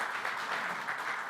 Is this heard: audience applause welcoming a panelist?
yes